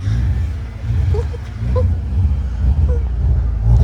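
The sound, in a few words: Alfa Romeo car engine accelerating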